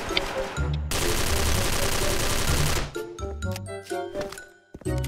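Rapid automatic bursts from an XM8 rifle in a shooting video game crackle loudly and densely for a couple of seconds, then give way to scattered clinks and shorter shots, with a voice talking faintly.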